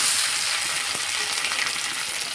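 Mustard and cumin paste sizzles in hot frying oil with onions, a steady broad crackling hiss holding at an even level throughout, close and fairly loud with no voices.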